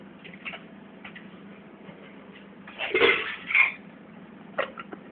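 Woodapple raita with chilies, ginger, salt and turmeric being mixed in a bowl, a couple of louder clinking, scraping strokes midway among light taps, close and without talk.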